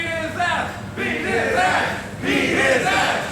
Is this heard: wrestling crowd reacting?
yes